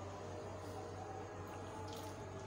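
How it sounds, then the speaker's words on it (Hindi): Water trickles steadily from a container into flour while dough for aloo poori is mixed, a soft continuous splashing stream heard faintly and close, with no speech. "अब मैं थोड़ा थोड़ा करके इसमें पानी डालूंगी।"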